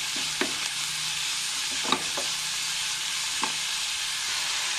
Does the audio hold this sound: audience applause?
no